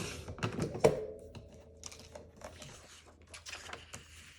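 Paper mats being trimmed to size for a Halloween scrapbook page, a series of quiet close crisp cuts and taps with no talking.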